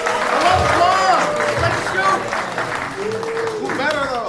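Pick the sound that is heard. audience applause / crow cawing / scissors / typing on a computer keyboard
audience applause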